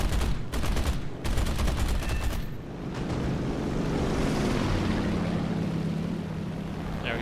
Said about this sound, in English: There we go, cannon ripped them apart.